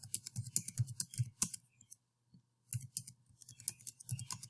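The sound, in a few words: pressing buttons on a calculator to enter data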